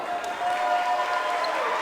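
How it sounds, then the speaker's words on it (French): An audience applauds and cheers a coupé décalé street dance crew on stage at a street dancers show final, a steady, dense wash of clapping and crowd noise with a faint whistle-like tone partway through. "Sur scène, Léon Prod, on les applaudit très fort."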